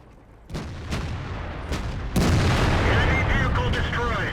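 A tank cannon shot in the World of Tanks video game, a sudden loud boom after a quieter stretch, with a rumbling roar that lingers under the game sounds.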